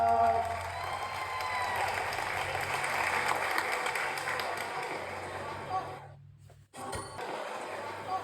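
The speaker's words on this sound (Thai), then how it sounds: "เสียงปรบมือดังมากครบ" A crowd at a Thai scholarship presentation during a singing contest show applauds loudly for about six seconds, swelling and then fading, with a voice over it before a brief cut.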